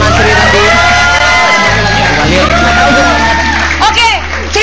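A loud studio audience cheering and shouting with high whoops over a constant roar of voices, amplified speech mixed in, during an Indonesian TV show.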